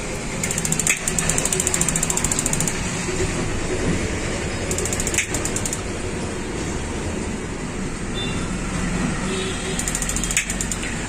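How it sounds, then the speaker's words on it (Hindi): A gas geyser's igniter fires repeatedly, giving bursts of rapid mechanical clicking and sparking over a loud, steady background, with a few sharp tick sounds between bursts. "जब इसकी हमारे लाइटर की चर की आवाज़ आती है तो बीच में एक टक की आवाज़ आती है"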